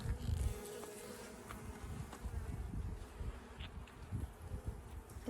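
Honey bees buzz at an open beehive during a hive check, a close, continuous droning hum with individual bees flying past the microphone, no talking.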